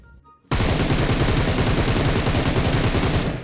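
Loud, dense automatic gunfire from PUBG Mobile erupts after a brief quiet start, a rapid sustained burst of shots with no talking.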